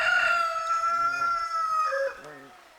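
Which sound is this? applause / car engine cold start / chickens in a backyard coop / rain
chickens in a backyard coop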